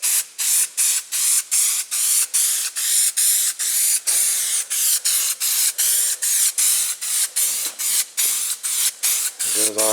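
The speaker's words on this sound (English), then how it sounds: "it's just like spray painting the car" An aerosol protectant can sprays onto a 1970 AMC Gremlin door panel in steady, close hissing bursts, each cut by brief pauses, repeating rhythmically for the whole stretch with no talking.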